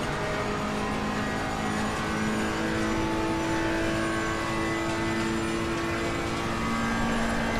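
A Ferrari 488 GT3 engine holds a loud, steady high-revving whine at Spa in Assetto Corsa Competizione, close and sustained, with only slight shifts in pitch and no talk.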